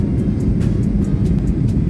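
An airliner makes repeated landing attempts at Hachijojima Airport in strong wind, its engines a loud, steady, deep roar heard from inside the cabin, with no talking.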